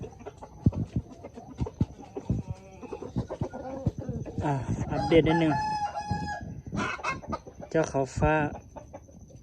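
Chickens and a rooster set out in the sun outdoors cluck repeatedly, with a rooster crowing in the middle, fairly close, while someone talks over the birds.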